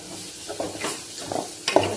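Hurulikalu (horse gram beans) palya fries in a pan with a soft sizzle and a few close, short scraping stirs.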